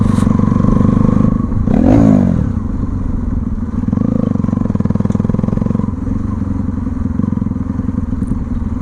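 A modified 2013 Bajaj Pulsar NS200 motorcycle engine revs loudly and close by, a sustained throaty rumble with a sharp blip of the throttle near two seconds and again around four seconds, with no talk.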